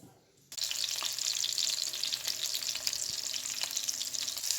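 Hungarian sausage fries in hot cooking oil. The sizzle starts abruptly after a brief quiet moment, then turns into a loud, close, continuous crackle with small pops scattered through it. No one speaks over it.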